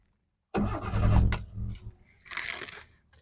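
A Maruti Esteem LXi with an MPFI petrol engine converted to run on LPG starts and runs, with an abrupt loud start followed by uneven revving that dips and swells twice.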